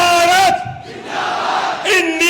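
An election rally crowd in Aurangabad, Maharashtra chants slogans in loud unison, answering a leader's calls with roaring call-and-response shouts, close and overwhelming with brief pauses between chants.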